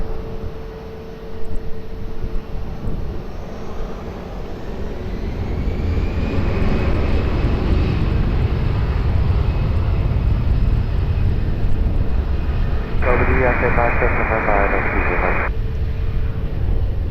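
Airliner taking off from Runway 20 at Lisbon Airport, a broad engine roar that swells over the first several seconds and holds steady and loud to the end, with a brief burst of tonal radio chatter near the end.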